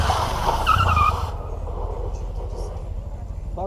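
A motorcycle without ABS brakes hard during a riding-course demonstration, tires skidding briefly with a loud rushing scrape that cuts off after about a second, leaving engine rumble and background noise.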